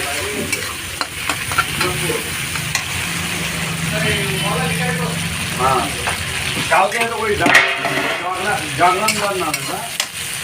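Fish oil dish frying in a pan with coriander leaves added, a steady sizzle with stirring scrapes running throughout and a voice speaking over parts of it.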